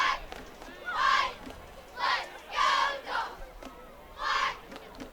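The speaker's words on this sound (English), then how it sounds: "You hear the cheerleaders." High school football game crowd with cheerleaders, their shouted chants rising in four or five loud rhythmic bursts over a steady stadium murmur.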